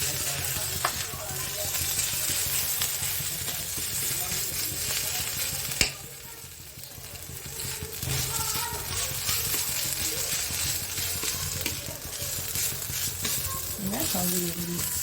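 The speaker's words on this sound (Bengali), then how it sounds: "এবার আমি অল্প একটু ঘি মধ্যখানে দিলাম, আদাটা একটু ভেজে নেবো, আদা বাটাটা।" Ginger paste frying in a little ghee in a pan for Gobindobhog rice khichuri, a steady crackling sizzle with stirring scrapes and a sharp knock partway, with faint talk in the background.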